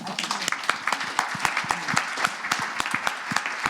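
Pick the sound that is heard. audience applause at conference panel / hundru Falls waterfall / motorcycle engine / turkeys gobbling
audience applause at conference panel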